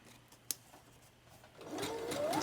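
A sewing machine chain-pieces paper strips from one piece to the next. After a sharp click, its whirring motor builds and runs steadily near the end.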